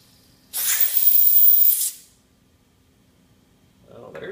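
Slime Quick Spare inflator airing up a tire, a single loud burst of hissing air lasting over a second, then quiet with a faint rustle at the end.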